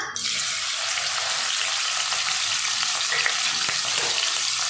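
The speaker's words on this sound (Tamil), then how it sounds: "எண்ணெய் நல்லா சூடாயிட்டு 3 பெரிய வெங்காயத்தை சின்ன சின்னதாக நறுக்கி வச்சுருக்கேன், அதை சேர்த்துக்கலாம்." Steady, dense sizzling of chopped onions frying in hot oil, constant and close, with faint clinks and no talking.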